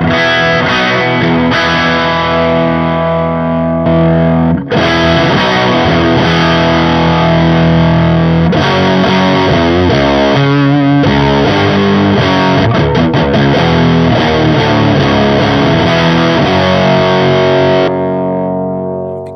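Electric guitar through an EarthQuaker Devices Bows germanium OC139 full-range boost plays chords and runs with a warm, gritty overdrive, loud and continuous for nearly twenty seconds with a brief pause midway.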